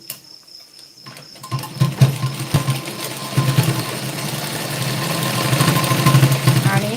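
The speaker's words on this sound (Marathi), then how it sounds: "आता या ठिकाणी आपण इकडची पण फिटिंगची शिलाई देऊन घेऊ" A sewing machine stitches a fitting seam on a blouse, starting after a short pause and building into a continuous close mechanical whir with rhythmic knocking that grows slightly louder toward the end.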